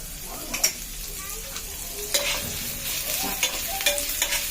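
Whole cumin seeds and green chilies fry in hot oil, a steady close sizzle broken by light stirring clinks and scrapes of a spoon against the pan.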